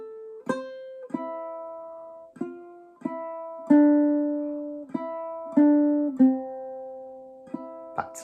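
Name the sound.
clawhammer ukulele playing Wildwood Flower melody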